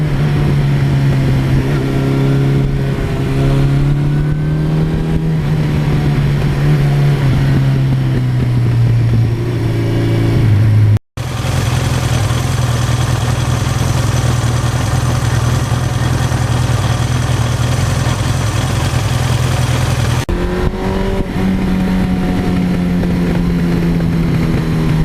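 A 1982 Suzuki GS1100E motorcycle engine runs steadily and loud throughout, its low drone shifting in pitch as revs rise and fall, with a brief cut near the middle before the same close, continuous engine note resumes.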